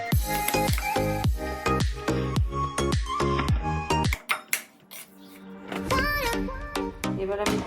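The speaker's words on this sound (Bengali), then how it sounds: "কড়াইটা বসিয়ে দিলাম" A wok set onto a gas stove in a home kitchen while making pitha: a quick run of metallic clanks and clinks, a short quieter gap, then more clattering pot-and-utensil knocks, close and fairly loud.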